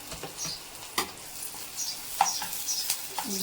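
Egg masala frying in a pan with green chillies and curry leaves, a steady close sizzle broken by scattered spoon scrapes and stirring clinks, with no voices.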